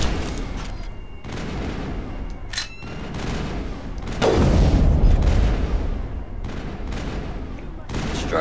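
Sniper rifle fire in Mass Effect: a few sharp, loud shots with a heavy burst partway through, amid game combat noise.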